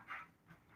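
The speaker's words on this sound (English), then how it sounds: "That's my daughter's dog." A dog panting indoors, two soft breathy bursts close by, fairly quiet, with no talk over it.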